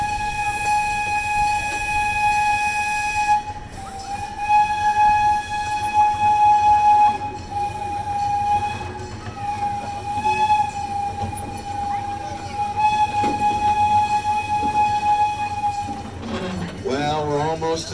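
The Irvine Park Railroad ride train keeps up a long, loud, steady whistle-like tone over a rumbling roll, with voices talking over it and a wavering sound near the end.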